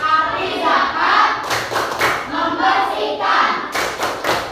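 A group claps together in a rhythmic classroom chant, with sharp hand claps and thumps in patterned bursts mixed with chanting voices.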